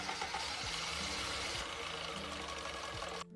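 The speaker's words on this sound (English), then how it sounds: "it sounds like his car just has a lifter tick" A car engine idles steadily with a light, rapid ticking from the valve lifters layered over the low hum, close and continuous before cutting off abruptly at the end.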